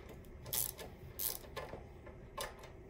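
Ratchet or wrench clicking in short bursts while riser cap bolts are tightened on Coleman CT200U mini bike handlebars, three or four close, fairly quiet ratcheting strokes with brief pauses between.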